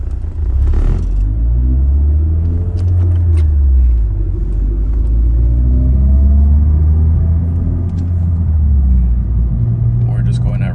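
A 4th-generation Mazda with a Corksport short ram intake drives at residential speeds, its low engine drone rising and falling through gear changes. Speech sounds faintly alongside the engine.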